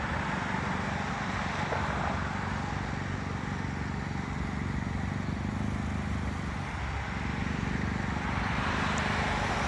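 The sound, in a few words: jet airplane approaching Midway airport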